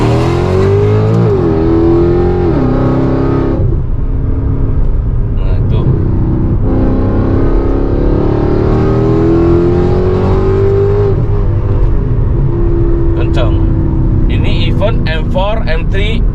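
Mercedes C63 AMG with a 6.3-litre V8 accelerating hard on a toll road, a deep loud engine roar rising through the gears with brief dips at each shift, heard from inside the cabin with people talking over it.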